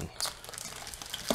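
Plastic bag crinkling and rustling up close as a used Lego set is cut free, with soft crackles and a sharper snip near the end.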